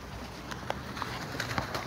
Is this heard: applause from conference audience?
no